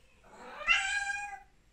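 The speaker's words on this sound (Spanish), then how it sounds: "Le encanta subirse a las alturas y ponerse a maullar." A domestic cat perched up high gives a single drawn-out meow lasting over a second, clear and fairly close, with no talking.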